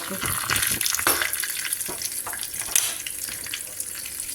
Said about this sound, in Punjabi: ਥੋੜਾ ਜਿਹਾ ਆਇਲ ਲੈ ਕੇ ਉਹਦੇ ਵਿੱਚ ਪਾਏ ਰਾਈ ਜੀਰਾ ਔਰ ਕੜੀ ਪੱਤਾ